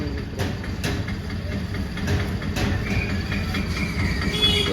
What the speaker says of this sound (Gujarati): આપણે આમ પૂગ્યા છે પાટા હાઈવે રિટર્નમાં અને રેલગાડી જાય છે